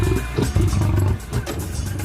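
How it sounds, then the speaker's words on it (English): A deep, rumbling roar of a massive American lion, a prehistoric big cat, rolls out in a couple of heavy surges, loud and close, with no voices over it. "And the massive American lion."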